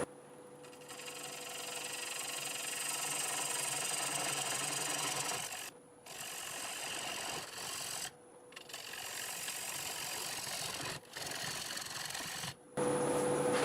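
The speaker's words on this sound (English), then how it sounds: "Just going to use my 1/2-inch bowl gouge and cut it on there." A half-inch bowl gouge cuts a tenon mark into a maple bowl blank spinning on a wood lathe, giving a steady close scraping hiss broken by three short pauses where the tool lifts off the wood.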